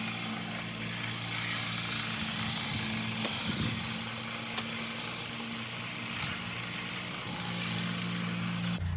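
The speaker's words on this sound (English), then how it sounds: "And we'll turn the lathe on and press down on that." Wood lathe spinning a baseball bat blank, a steady low motor hum with a tonal whine running throughout, with brief rubbing pressure passes against the turning wood.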